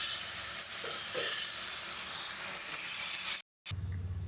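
Cluster beans cook in a hot pan with a steady, close sizzle and hiss, broken by a brief silent gap near the end before a louder, lower bubbling resumes.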